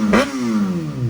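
A Kawasaki ZX6R motorcycle with its exhaust honeycomb baffles removed revs sharply once, then the loud, raspy engine note drops and settles into a rough idle, close by.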